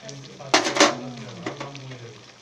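Spices tipped all at once into a hot kadai give a brief clatter and loud sizzle burst, then a quieter hiss that fades, with a low hum throughout.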